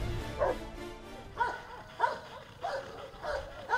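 Dogs bark in a demonstration of handling an attacking pack, with about five sharp, moderately loud barks and yelps coming in bursts roughly every half second to a second over a low background rumble.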